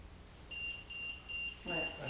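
A ghost-hunting detector in a manor gives a faint, steady high-pitched electronic beep, repeating in short pulses at low volume against quiet room noise.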